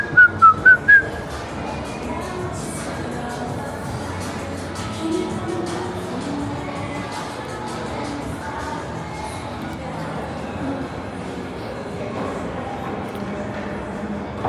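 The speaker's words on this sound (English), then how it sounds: "Just whistle while you work." A person whistles a short run of bright chirping notes outdoors on the Las Vegas Strip at sunset. Continuous crowd and street bustle follow, with people talking in the background.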